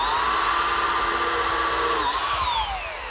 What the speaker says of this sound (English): I'm just pre-drilling holes and using some 1 5/8 galvanized screws.